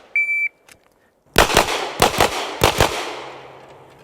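A start beep sounds, then gunshots ring out in a timed shooting drill: two quick pairs of sharp, loud reports followed by another pair, each echoing briefly in open air.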